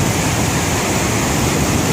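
Sae Pong Lai waterfall in Attapeu, Laos, gives off a loud, unbroken roaring rush of falling water heard up close, with no voices.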